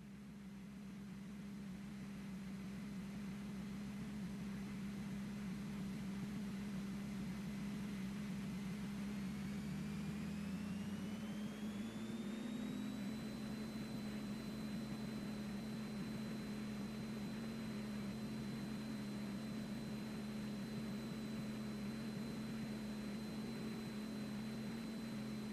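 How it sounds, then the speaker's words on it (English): Extra aerobatic plane engine during takeoff, a steady loud drone close by whose tone rises and strengthens around the middle as power comes up, then holds a constant high roar to the end, with no talk. "Clear for takeoff, 31 right, Mike."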